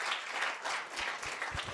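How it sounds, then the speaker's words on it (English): Audience applause at a live-streamed panel dialogue on transport industry transformation: steady, dense clapping from a seated crowd, filling the whole short moment at moderate level with no voices over it. "Please let's give a round of applause to SABC"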